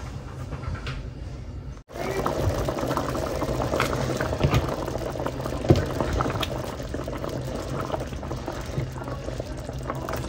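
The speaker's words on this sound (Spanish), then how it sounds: "ahorita la voy a tapar para que comience a hervir y se acabe de cocer el pollito" A steady bubbling simmer of chicken broth in a covered pot, continuous and moderately close, with a faint clunk near the start and no talking.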